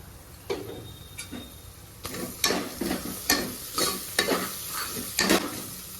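Fenugreek leaves and turmeric fry and get stirred in a pan for Telangana-style boti curry, with repeated scraping strokes of a spoon against the pan over a soft, steady sizzle, growing louder and more frequent in the second half.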